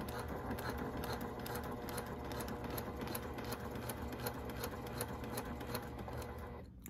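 A Brother PQ1500SL sewing machine with a worn needle runs continuously up close, its needle clattering in a fast, even rhythm throughout.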